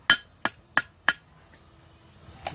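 Four sharp, ringing hammer blows on a hot metal tine being forged for a mason jar mug handle, struck at a steady rhythm, close and loud, then a pause and a fifth lighter strike.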